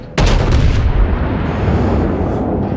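Battleship main guns on the USS North Carolina fire in World of Warships, one sudden loud booming blast that rolls into a long rumbling decay.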